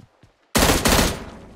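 Sustained burst of AK rifle fire in the mobile battle-royale game PUBG Mobile, loud and close, starting abruptly after near-silence and rattling on in rapid repetition without pause before easing slightly.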